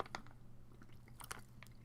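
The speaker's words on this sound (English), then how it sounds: "Malty crunch." Close, quiet chewing of crunchy chocolate malt balls, with a few crisp crunches and soft wet mouth sounds over a low steady hum.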